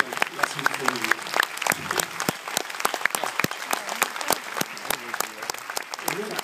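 An audience at Giffoni 2013 breaks into sustained applause, many hands clapping in a steady, crackling patter, with voices rising over it.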